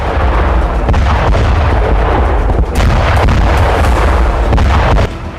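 A rapid barrage of heavy cluster bomb explosions, one after another, dense and loud throughout with no pauses.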